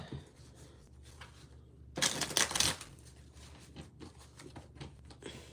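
Tarot cards are shuffled in one loud, brisk riffle lasting under a second, close up, with quieter handling and rustling before and after.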